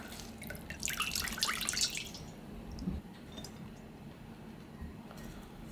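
Water drips and trickles as soaked vegetables are squeezed by hand in a kitchen. A brief splashy patter rises over a low background hum, then fades to faint, scattered drops.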